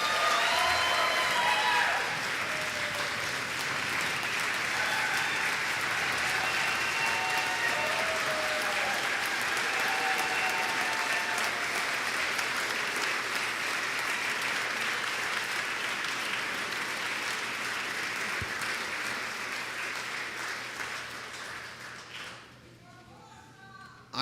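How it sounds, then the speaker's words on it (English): Sustained applause from the members in a legislative house session, a steady, dense clapping that fills the room for over twenty seconds before it fades and stops abruptly. "I think we all need to give them a tremendous applause"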